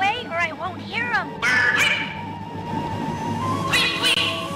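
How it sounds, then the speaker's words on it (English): A bird call made through the ground in Sly Cooper 3, a quacking, duck-like cry repeated several times with rising and falling warbles, loud and close over steady game background sound. "I'll make a bird call through the ground"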